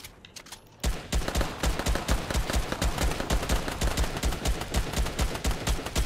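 Gunfire in the video game Fortnite, a rapid, evenly spaced burst of loud automatic shots that starts abruptly and hammers on continuously for several seconds.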